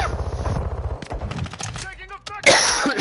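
Rapid pistol shots in a video game ring out in a quick, crackling burst amid busy game noise, followed by a sharper, louder blast near the end.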